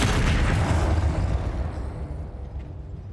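A Confringo blasting curse goes off in Hogwarts Legacy, a heavy booming explosion with a dense low rumble that swells at once and then slowly fades over a few seconds, with no voices over it.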